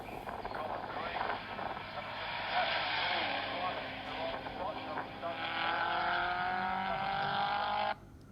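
A racing-green HSV VX GTS 300 sweeps past, its engine note rising and shifting pitch as it nears and passes, loud and sustained before cutting off abruptly.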